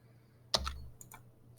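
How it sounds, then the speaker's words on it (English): A single computer keyboard key is pressed once, a sharp close click with a second faint tap after it, in an otherwise quiet room. "Hit the key on your keyboard that you want to use as your shortcut"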